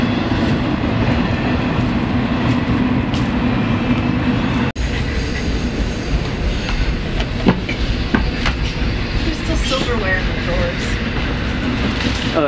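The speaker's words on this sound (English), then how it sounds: "It's just constantly trains going back and forth." A train rumbles past on busy railway tracks beside an abandoned trailer park, a steady loud low roar with faint clickety-clack and metallic squeals across the whole stretch.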